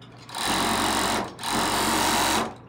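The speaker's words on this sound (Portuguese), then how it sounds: "e agora você vai fazer uma costura aqui" Sewing machine stitching a seam on jogger pants, two steady loud bursts of fast running stitches separated by a brief pause, close up and alone without voices.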